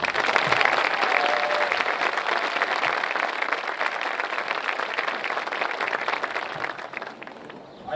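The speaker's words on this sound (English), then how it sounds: "I ask for everyone to join me in giving them a round of applause right now." Sustained, dense applause from a large crowd at a Class of 2021 high school graduation ceremony, steady and even throughout and tapering slightly near the end, with no voices above it.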